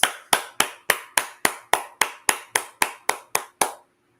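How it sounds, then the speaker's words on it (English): Thirteen evenly spaced sharp hand claps ring out one after another at a steady, deliberate pace, close and distinct, then stop into silence. "So let's give YouTube a round of applause."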